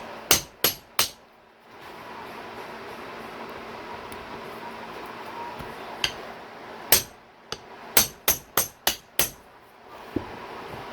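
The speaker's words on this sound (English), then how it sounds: "the best way to get these things out is with like one of these impact screwdrivers if you don't want to strip them out." A hammer strikes an impact screwdriver to free screws during a Yamaha YZ250 top-end rebuild: sharp metallic clanks, three quick ones at first, then after a quiet pause a rapid run of about eight blows, each loud and close.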